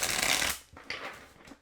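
A quick riffle of tarot cards being shuffled, a brisk burst of flapping followed by softer shuffling taps, close by.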